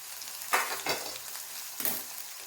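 Brinjals fry in a pan with a close steady sizzle, and three or four scraping stirs cut through the hiss. No one speaks.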